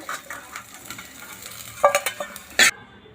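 Jackfruit pieces fry in a pan for a Vidarbha-style jackfruit curry, giving a soft steady sizzle with a few sharper clinks and stirring scrapes near the end, close and alone without talk.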